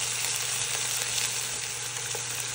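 A burger patty frying in a pan while cheese melts on top, giving a steady, even sizzle with a constant hiss that holds close and fairly loud throughout, with no talk.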